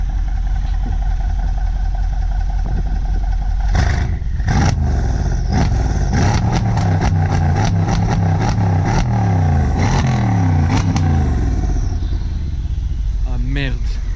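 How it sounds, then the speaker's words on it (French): Two turbocharged cars of 600 and 700 hp idle and rev nearby, their engines rumbling with rising and falling whine and clatter. People talk loudly over the engine noise. "tu sais qu'on entend les turbos qui tournent"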